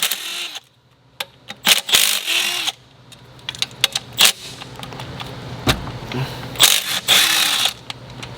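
Hand tools clink and ratchet while bolts come off the EGR valve atop the intake horn of a 5th gen Cummins diesel engine, giving a series of sharp metallic clicks and clanks close by, with brief quieter gaps.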